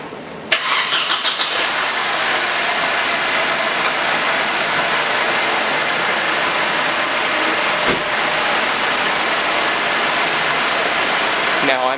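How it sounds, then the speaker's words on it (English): A Mercedes-Benz W204 C250 engine cranks and catches, then settles into a steady, close idle that holds evenly to the end. "Start the car and let it idle for about 10 minutes."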